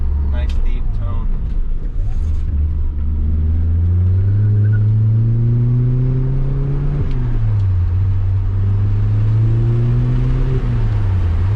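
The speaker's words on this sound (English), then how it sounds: "Take it out for a test drive and see what it sounds like on the road." A VW Beetle with a custom DIY exhaust on a road test drive, its engine droning low and deep as it revs up through gears with rising and falling pitch, heard from inside the car with a voice talking over it.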